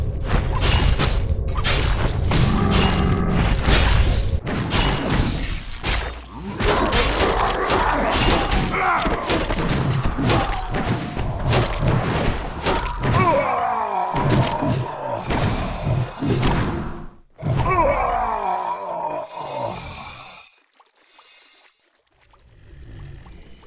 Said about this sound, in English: Players' forces are under attack.